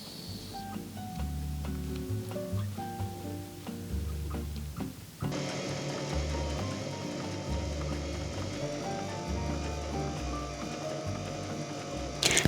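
A sewing machine stitching in the sides of a thrifted garment, a close, loud motor whir that runs in steady stop-start bursts, then becomes denser and more continuous partway through.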